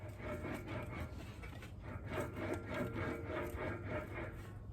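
An English wheel rolls and stretches a sheet of metal with a steady, continuous rubbing and grinding drone, moderately close, keeping a regular back-and-forth rhythm and no hammering.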